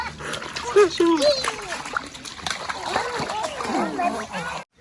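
Children splash water in a pool, with bursts of splashing and sloshing mixed with lively kids' voices and talking throughout.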